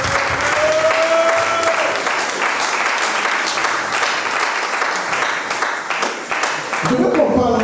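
A church congregation bursts into loud, sustained applause and cheering after a reading from the word of God, dense clapping filling the space throughout with a few voices rising over it near the end.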